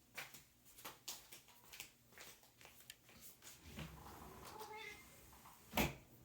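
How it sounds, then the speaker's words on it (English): A domestic cat meows several times, faint and close by, with quiet household sounds and some brief speech around it. "I have to let the cat in."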